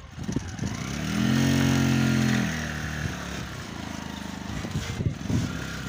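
Loader rickshaw hauling sugar cane: its small engine revs up into a loud droning pull, then settles into a rougher, lower idle-like chug as it moves off, with clatter and knocks near the end.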